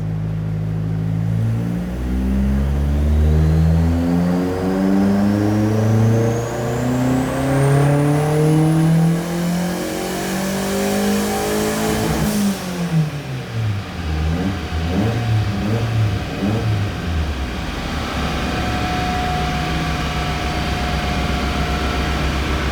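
A turbocharged VW Gol/Parati FT450 engine revs hard on a dynamometer, its loud tone climbing steadily to a high peak with turbo whistle, then dropping off into a rough idle.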